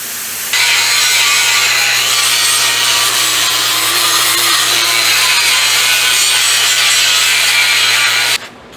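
A grinder works a homemade trailer's metal gooseneck part in one loud, unbroken harsh rasp lasting about eight seconds, then stops abruptly.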